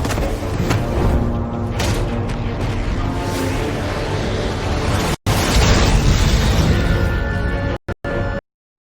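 Loud, continuous rumbling blast in the Batman Telltale video game, with crackling debris and roaring bursts, cutting out briefly twice near the end; a dense, sustained explosion sound.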